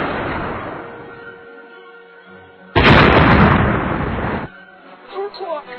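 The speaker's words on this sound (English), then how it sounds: "Fire the missile!" A missile launch and explosion in an animated battle scene: a sudden loud blast erupts, roars for about two seconds and cuts off, with voices speaking before and after.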